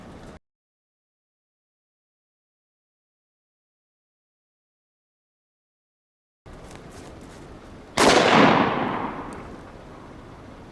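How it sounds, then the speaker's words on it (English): Gunshot fired at balloons outdoors: after a stretch of silence and some low background noise, one loud sharp crack bursts out and decays over about a second. "Not all of the balloons popped when I shot it"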